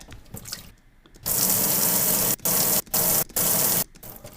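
Tap water gushes in loud bursts, switched on and off several times with short pauses, after a quieter start with faint handling sounds.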